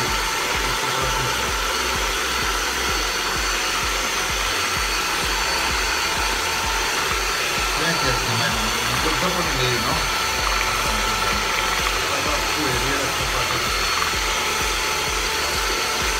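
A home ice cream machine churns chocolate ice cream made with bitter cocoa powder, giving a steady, continuous motor whir throughout, with faint voices at times underneath.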